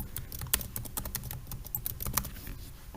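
Typing on a computer keyboard, a rapid, irregular string of crisp key clicks and taps, close and fairly quiet, with no talk over it.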